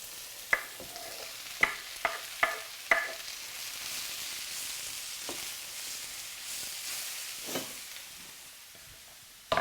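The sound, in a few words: food frying and stirred in a pan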